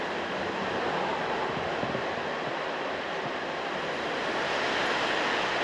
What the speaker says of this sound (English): I'll have to excuse the rain, folks, it's a bit noisy on this roof.